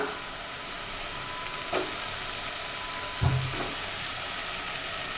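Drumstick pieces and tomatoes sautéing in a pan over a medium flame for South Indian sambar, a soft, steady sizzle with a couple of brief utensil knocks, no voices.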